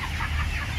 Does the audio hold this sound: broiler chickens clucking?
yes